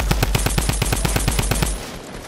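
Rapid automatic gunfire in a video game shooter sounds as an even burst of about a dozen loud, close shots before cutting off into quieter background noise.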